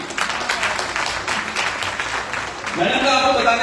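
Audience applause at a Delhi recognition event, dense clapping throughout, swelling louder near the end, with a voice speaking over it at times.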